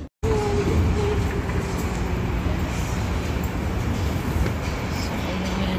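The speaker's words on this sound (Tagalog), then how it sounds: "Hintay tayo na dito ng train." A train pulls into a station platform, a loud steady rumble and rushing roar with a low tonal hum, building right after a brief silent start and continuing throughout.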